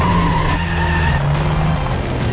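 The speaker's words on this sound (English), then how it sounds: "Just below us is probably a new FIA world record breaking truck." Volvo Iron Knight, a 2400 hp record-breaking truck, races past at high speed during an FIA world record run, a loud steady engine roar with shifting harmonic tones that swells and falls as it passes.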